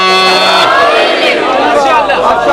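Crowd at a Shia majlis gathering in Sialkot loudly chanting a religious slogan in unison, many raised voices with wavering pitch, close and forceful throughout.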